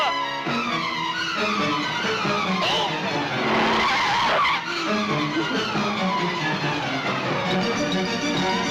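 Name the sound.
car skidding to a sudden stop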